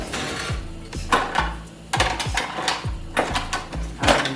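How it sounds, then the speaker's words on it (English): Spoon stirring seafood boil seasonings with brown sugar in a pot, giving repeated scraping clinks and knocks against the metal in an uneven rhythm, close and fairly loud, with no talking. "Let me stir them up."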